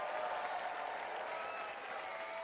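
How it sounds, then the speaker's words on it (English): Audience clapping fills a hall in a soft, continuous, fairly distant wash of hand claps with no voices on top, holding steady throughout. "stop clapping"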